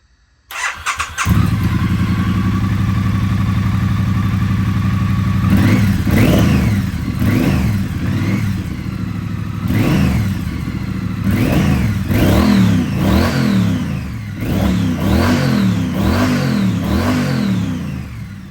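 Triumph Street Twin motorcycle fitted with a new exhaust starts up, then idles and revs repeatedly in close, loud bursts that rise and fall in a steady rhythm.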